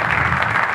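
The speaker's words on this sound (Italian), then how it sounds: "a cui idealmente noi facciamo un applauso" Brief burst of audience applause at a live music concert, dense and steady hand clapping heard alone for under a second.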